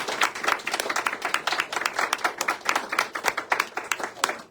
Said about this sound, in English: let's just give them one more round of applause